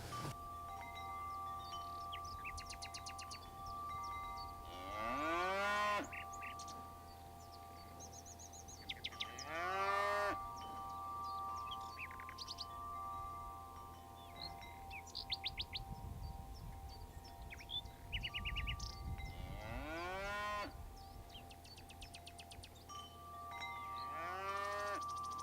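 Cows moo repeatedly at a dairy farm with a cheese works, several long drawn-out calls spaced a few seconds apart over steady background hum and scattered bird chirps.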